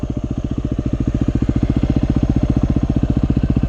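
Motorcycles on the Holland Track give a loud, close, rhythmic engine putter with evenly spaced rapid pulses throughout, with no voices.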